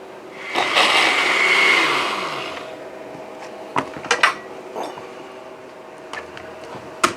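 A blender grinds freeze-dried nacho cheese dip into powder with a loud, close whirring roar for a couple of seconds, then winds down, followed by scattered clunks and taps of the jar and lid.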